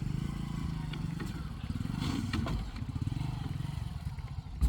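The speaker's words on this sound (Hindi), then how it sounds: "देखो बाइक कैसे चढ़ती है नाव के ऊपर" Motorcycle engine idling and revving with clattering, scraping knocks as the bike is ridden up onto a wooden river boat outdoors, fairly steady and close, with some people talking faintly.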